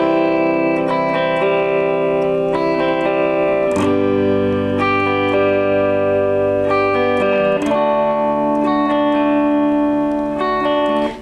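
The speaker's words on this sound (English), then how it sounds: "I was just strumming each chord and then plucking strings 1, 2 and 3 a couple of times" An acoustic-sounding guitar playing chords, each chord strummed and then strings 1, 2 and 3 plucked a couple of times, ringing steadily and fairly loud with no voices.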